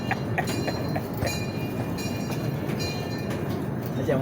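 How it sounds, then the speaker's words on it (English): A zoo ride train on the Cape to Cairo Express rolls back into its station, a steady loud rumble with rhythmic clicking of wheels and faint metallic squeals throughout. "As we pull back into the station, please remain seated until the train comes to a full and complete stop"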